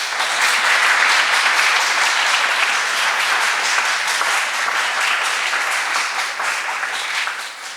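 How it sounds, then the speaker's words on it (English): Congress audience giving sustained applause, a dense and even wash of many hands clapping for nearly eight seconds before easing off at the end. "Francesca deserves an applause"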